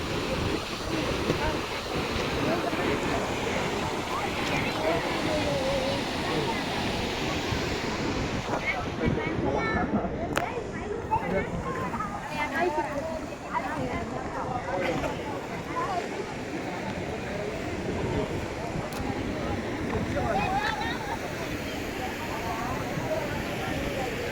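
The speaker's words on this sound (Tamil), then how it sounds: "நல்லா தண்ணி வழிஞ்சு போகுது" Rushing water roars steadily for a long stretch as it overflows the spillway of the Perumpallam dam near Sathyamangalam, Erode district, mixed with gusty wind buffeting the microphone.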